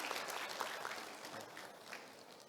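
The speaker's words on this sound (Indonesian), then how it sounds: "Luar biasa, tepuk tangan dulu" An audience claps in a lecture hall during a guest lecture, a faint, even patter of applause that stays steady throughout.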